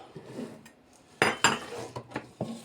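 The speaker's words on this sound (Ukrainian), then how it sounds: "Розрізаємо наші яйця варені на половинки" A knife slices boiled eggs into halves for a tuna and Chinese cabbage salad, giving a handful of sharp, close taps and clicks against a board or plate at irregular intervals, with quiet pauses between.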